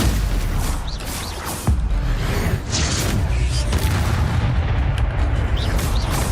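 Spell combat in the video game Hogwarts Legacy, with a Stupefy cast among loud booming magical bursts and impacts over a dense, continuous wash of game noise.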